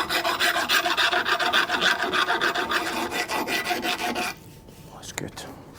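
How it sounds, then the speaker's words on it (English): A metal file rasps back and forth over a chipped metal edge left by an air chisel on a Land Rover Defender front lower arm bush job, steady close strokes for about four seconds, then stopping with faint clinks. "So we'll just file it off just so there's no sharp edges."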